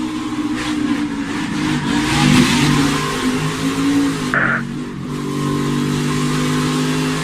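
NASCAR stock car slowing onto pit road, heard from onboard: a steady, loud engine drone that swells briefly and then eases, with a short high squeal partway through.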